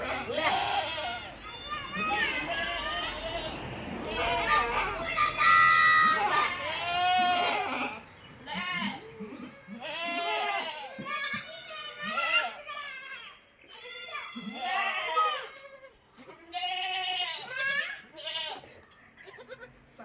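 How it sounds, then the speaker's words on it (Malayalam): Crossbreed dairy goats, a hornless milking doe with two male kids about a month old, bleat repeatedly at close range in a run of wavering, overlapping calls that continue throughout. "നല്ല പാലുള്ള ഒരു കൊമ്പില്ലാത്ത ആട് അതിൻ്റെ രണ്ട് മുട്ടൻ കുട്ടികൾ"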